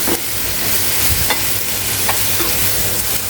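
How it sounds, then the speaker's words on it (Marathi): Grated bottle gourd roasting in ghee over a low flame for halwa, a loud, steady sizzle and crackle that persists without pause, with occasional stirring scrapes close by and no talk. "अगदी मंद आचेवर आपण हा दुधी पूर्ण तुपामध्ये भाजून घेणार आहोत"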